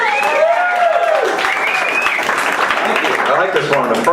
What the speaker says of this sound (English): Give a round of applause to the bucket list.